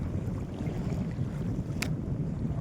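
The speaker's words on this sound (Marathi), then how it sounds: "बघा कसलं वारं सुटलं मित्रांनो इकडं" Steady wind buffeting the microphone on a shore beside moored boats, a constant low rumble with no talking.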